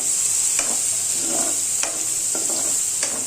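Spices fry in a pan and are stirred, with a steady bright sizzle broken by several sharp scraping strokes of the spoon at irregular intervals, up close and with no talking.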